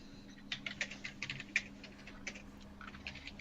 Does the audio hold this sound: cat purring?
no